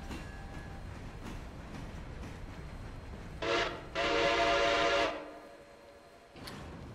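A train running in the railway game Railroader, a steady low rumble broken by a loud whistle or horn blast of about a second, then a quieter stretch and a brief final toot.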